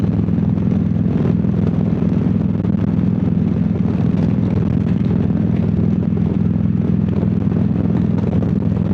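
A motorcycle engine runs steadily while riding, a loud constant low rumble with wind noise, recorded close from a helmet with no talking.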